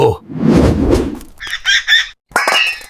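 Chickens clucking and squawking in short bursts after a loud rumbling noise at the start, with a brief silence before more agitated clucks.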